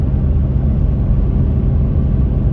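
A 100 Series Landcruiser with a 1HD-FTE diesel engine pulls at wide open throttle on the road, giving a steady, loud, low rumble with a constant drone and no voices.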